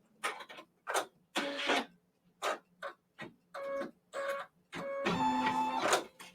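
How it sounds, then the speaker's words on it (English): Embroidery machine running at 700 stitches per minute while stitching a quilt block held in a hoop, producing close, choppy mechanical bursts of whirring and buzzing with short pauses between, ending in a longer steady run. "I'm using 700 stitches per minute"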